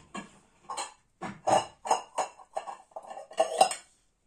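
Almond milk being poured and shifted into a larger salad bowl, with a run of separate clinks and knocks of utensils and dishware, fairly close and moderately loud, no talking.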